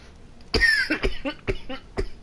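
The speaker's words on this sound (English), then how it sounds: "Sorry, I'm coughing." A single person coughs several times in quick succession, harsh and close, the bursts tapering off.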